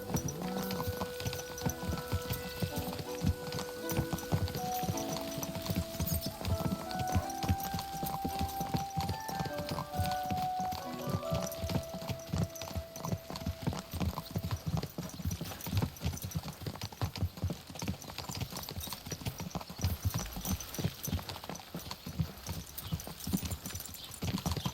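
Horse hooves clip-clop continuously in Kingdom Come: Deliverance II, a dense, fast rhythmic patter close by, with faint music tones and a possible whinny mixed beneath.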